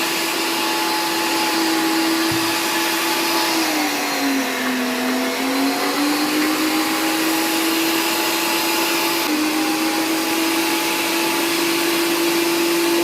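An electric meat grinder runs steadily while grinding Palestinian falafel ingredients of chickpeas, onion and parsley, giving a loud, continuous motor whine whose pitch dips briefly under load and then recovers, with no talking.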